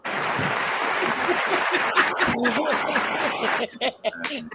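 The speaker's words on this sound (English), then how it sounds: "I give you a clap" Clapping rises from a small audience at a soul line dance gathering, steady and fairly close for several seconds before tapering off, with a chuckle or two and some voices talking over it.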